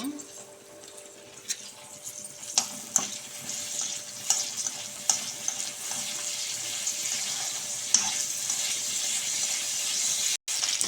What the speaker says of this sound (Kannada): ಇದನ್ನು ಇವಾಗ ಬಾಣಲೆಗೆ ಹಾಕ್ಬಿಟ್ಟು ಫ್ರೈ ಮಾಡ್ಕೊಂಬಿಡ್ಬೇಕು ಸ್ವಲ್ಪ ಎಣ್ಣೆ ಹಾಕ್ಬೋದು ಇಲ್ಲ ತುಪ್ಪನಾದರೂ ಹಾಕ್ಕೋಬೋದು